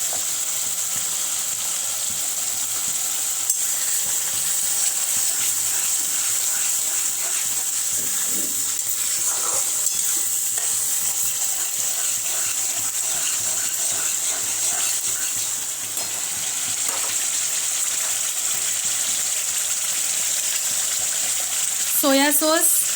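Chicken wings being stirred with tomato sauce and soy sauce in a pan, a steady sizzle with occasional scraping strokes running throughout, fairly loud and close, with brief clinks near the end.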